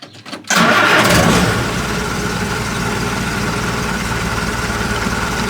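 A vintage D-Day Jeep engine, choke pulled out after sitting a month, cranks briefly and then catches with a loud burst before settling into a steady, slightly uneven idle.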